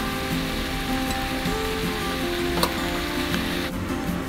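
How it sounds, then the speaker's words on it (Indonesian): Black pepper beef and potato stir-fry being stirred in a pan, giving a steady close sizzle and frying hiss with faint scraping, no talk. "kita aduk-aduk sebentar agar sedikit garam yang kita tambahkan tadi bisa tersebar merata"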